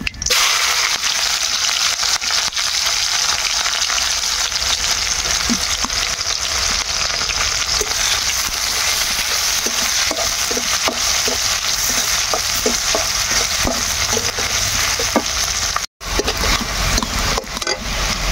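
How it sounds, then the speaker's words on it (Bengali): Onions sizzle steadily in hot oil with garam masala in a wok, a continuous loud broadband crackle with scattered stirring scrapes and clicks toward the end, no voices. "পেঁয়াজ ভাজা হয়ে গেছে"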